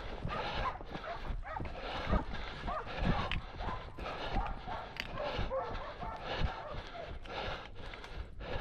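Hunting dogs bark and yip repeatedly during a wild boar hunt outdoors, rapid and irregular barks at close to mid distance, mixed with shouting voices and rustling movement.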